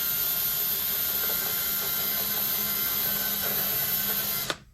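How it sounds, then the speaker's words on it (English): A power drill bores an 8 mm hole, holding one steady high whine for several seconds before spinning down abruptly to silence, loud and close, with no talking over it. "Let the drill do the work."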